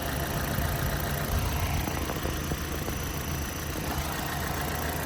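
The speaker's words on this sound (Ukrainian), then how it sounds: "Двигунчик працює просто ідеально." The 1.6-litre petrol engine of a 2012 Opel Zafira idles with an even, steady hum, close by and heard alone.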